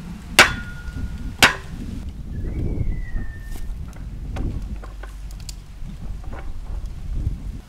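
A stake is hammered into garden ground outdoors with two sharp, loud metallic blows early on, followed by wind and faint rustling.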